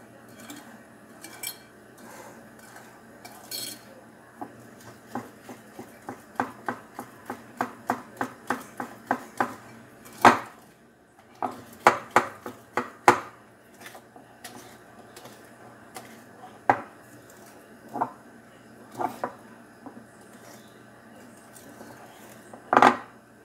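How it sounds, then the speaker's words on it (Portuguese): A spoon stirs eggless, dairy-free chocolate cake batter in a bowl, giving a run of quick clinks and taps against the bowl that quicken and then thin out into scattered knocks, close and quiet with no speech. "Agora vamos mexer."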